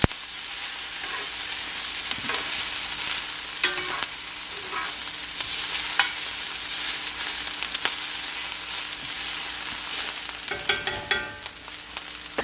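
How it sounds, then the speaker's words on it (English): Onions and peppers fry in a pan while being stirred, giving a continuous close sizzle broken by scraping stir strokes, with no talk. "I just keep stirring it and letting the onions and the peppers in here roast down"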